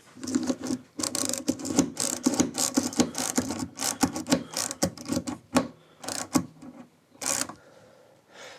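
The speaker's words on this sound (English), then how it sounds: "this is an extremely high quality French flick screwdriver. Righty-tighty." A high-quality French flick screwdriver drives a screw, giving a close, fast run of dry ratcheting clicks and scratchy mechanical ticks in uneven bursts with short pauses, no talking.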